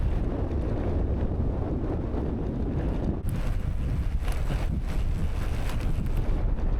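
Strong wind roars steadily across the microphone while cycling on gravel, a loud and continuous low rush with no voices.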